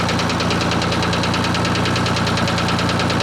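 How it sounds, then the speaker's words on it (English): A Ford 4000 tractor engine running steadily in cold weather while working by a lake, a loud, close, rhythmic diesel clatter and throb that stays constant throughout. "I never thought this way that I could drive these cold weathers with this tractor"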